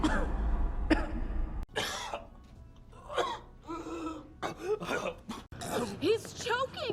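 A movie scene of a choking soldier, with several sharp, harsh coughs and throat-clearing bursts spread unevenly over a few seconds, mixed with gasps and strained voices speaking in between.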